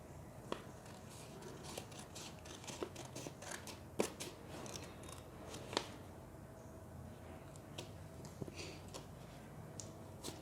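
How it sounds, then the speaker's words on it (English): Scissors snip away excess paper while an envelope is being made by hand, giving a string of crisp, close cutting clicks at an irregular rhythm over a quiet room hiss. "I'm going to cut that out."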